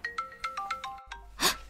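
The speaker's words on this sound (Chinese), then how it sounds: "林姐的手机响了起来" A mobile phone rings with a bright electronic melody of repeated short tones in a quick, even rhythm, then stops and is followed by a brief breathy hiss.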